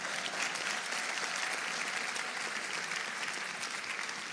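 Audience applause at a talk by a government minister, dense steady clapping from a crowd throughout, fairly faint and distant with no speech over it.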